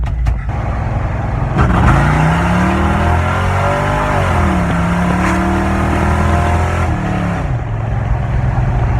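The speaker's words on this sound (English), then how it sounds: "Yeah, still sputtering a good bit." A 1974 Chevy Nova's engine runs rich and sputters, idling loud and close with uneven stumbling, and its pitch rises and falls through several revs with no talking.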